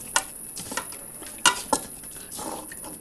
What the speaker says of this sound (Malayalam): എന്നിട്ട് എല്ലാം കൂടി നന്നായിട്ടൊന്ന് മിക്സ് ചെയ്യുക